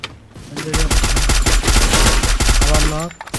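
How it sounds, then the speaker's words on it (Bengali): Rapid bursts of automatic gunfire from a Free Fire battle royale match, loud and close, with dense rattling volleys nearly continuous across the whole stretch. "আনজু ভাই ওখান থেকে হেডশট মারার ট্রাই করছিল"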